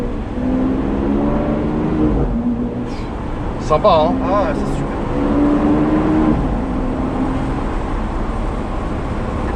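A Lamborghini Aventador S engine hums and builds under gentle throttle while driving, a steady low drone that stays under French conversation from people inside the car.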